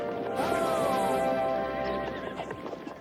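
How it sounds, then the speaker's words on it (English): A cartoon horse whinnies loudly with a falling neigh, while hooves clip-clop close by and fade toward the end. "My horse just can't keep up."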